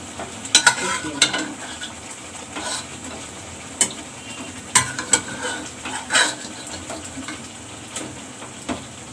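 Boiled mutton being stirred into spices in a pan, with steady sizzling frying under repeated sharp scraping clinks of a spoon against the pan, fairly close and alone.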